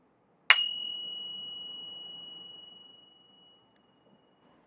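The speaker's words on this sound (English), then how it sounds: "Keep this going at your own pace until you hear the sound of a bell ring." A single bell struck once at the close of a yin yoga practice, a bright clear ding with a pure ringing tone that decays slowly over about three seconds into near silence.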